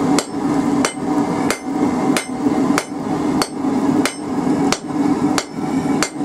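A hammer forges a steel taper flat on an anvil's face, about ten sharp, evenly spaced ringing strikes over a steady background hum, close and loud.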